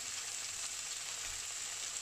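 Tomatoes frying in a pan for a Sri Lankan banana blossom curry, a steady close hiss of sizzling oil that stays even and unbroken, with no talking.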